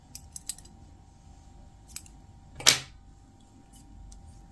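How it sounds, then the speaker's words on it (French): Scissors snip through crochet yarn at the end of a round, one crisp cut following a few small clicks and taps in a quiet room, close and fairly soft. "Une maille en l'air et on coupe le fil ici."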